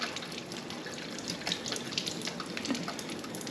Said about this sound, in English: I like to just swirl it around so we get a really good rinse on all of the seeds.